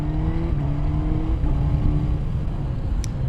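A Suzuki GSX-S1000GT+ motorcycle pulls away with the clutch let out, its engine a steady, fairly loud low drone with a slight rise in pitch over a few seconds, heard from the rider's position amid wind rush.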